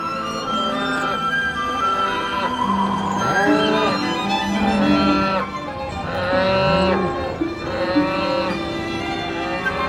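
Cattle moo repeatedly in long, loud calls on a wet, wintry farm in the valley of the River Allen near Allendale while they are fed hay, several overlapping bellows rising and falling over steady background noise.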